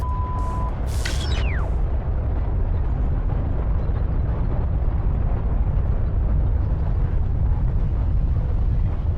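Nuclear bombs explode in the video game Not For Broadcast, a loud sustained rumbling roar that fills the whole stretch, with a brief whistling sweep near the start.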